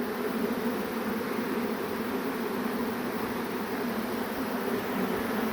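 A huge swarm of honey bees, including white-eyed drones, fills the air with a dense, continuous buzzing hum that stays steady and close throughout.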